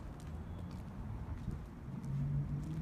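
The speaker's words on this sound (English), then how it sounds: "You can hear the traffic." Faint, steady hum of city traffic near downtown Los Angeles, heard from a distance, with a low rumble that swells slightly toward the end and occasional soft bird calls above it.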